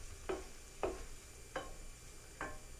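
Four quiet, evenly spaced scrapes of a spoon stirring risotto with asparagus and peas in a pan, over a soft, steady background sizzle.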